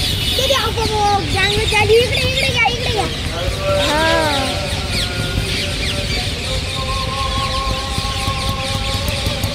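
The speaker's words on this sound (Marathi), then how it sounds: "आणि हे सगळे पोपटच आहेत." A large flock of parrots gathering in trees at dusk, a dense chorus of squawks and sliding whistled calls overlapping continuously at middle distance, with people talking over the noise.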